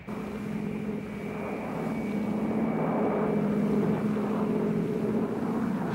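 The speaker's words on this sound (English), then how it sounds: "In one of the largest air-mobile assaults ever, 240 helicopters swept over Thanh Ninh province" A dense, droning roar of many helicopters sweeping overhead in a Vietnam War air assault in the game Battlefield Vietnam, holding steady and loud throughout with a faint high whine on top.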